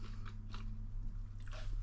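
Crunchy air-fried roast potato cooked in duck fat being bitten and chewed up close, a few crisp crunches over a steady low hum.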